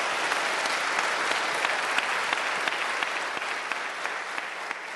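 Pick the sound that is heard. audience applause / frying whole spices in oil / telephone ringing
audience applause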